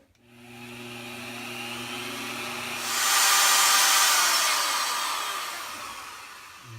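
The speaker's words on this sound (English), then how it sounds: "So what I'm gonna do is drill this right in the middle." A power drill runs steadily as it bores through the center of a part for a starship slingshot build, its pitch rising and its whine growing louder partway through, then easing off; close and continuous, with no talk.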